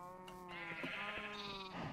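Sheep bleat in the video game Minecraft, several drawn-out, wavering calls overlapping one after another, moderately close and alone without talk.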